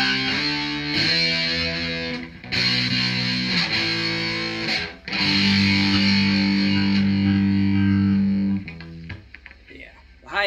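Electric guitar driven through a JOYO Husky Drive overdrive pedal, strummed chords with a gritty, saturated tone, loud and close, with brief pauses between phrases.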